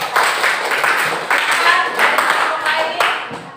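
A classroom of students claps for a group of classmates, steady dense applause lasting several seconds, close and lively, with some voices mixed in.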